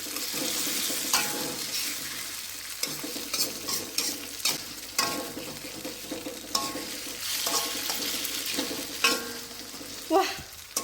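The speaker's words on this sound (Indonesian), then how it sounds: "dan kita masukkan bumbunya. Bersama dengan daun salam dan juga lengkuas." Spice paste sizzles and frys in a pan with bay leaves and galangal, a steady crackling hiss broken by repeated scraping stir strokes, close and alone.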